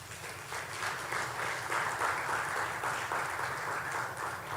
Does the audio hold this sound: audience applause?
yes